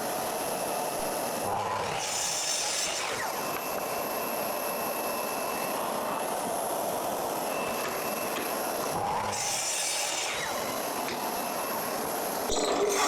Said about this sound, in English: I have a bit of a nightmare trying to get through this 20-year-old French oak floorboard with this 72mm or nearly 3-inch hole saw